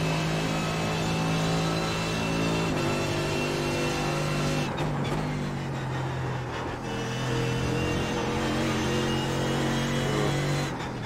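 A Mercedes GT3 race car in iRacing roars through a chicane on the Nürburgring, engine pitch climbing and dropping with gear changes and braking, loud and continuous with a brief skid-like rasp mid-way.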